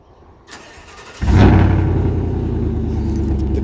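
A 2019 Chevrolet Silverado with the muffler and flapper deleted cold-starts at around freezing, a brief crank followed by a loud, sudden low-pitched roar that settles into a steady, rumbling idle close by.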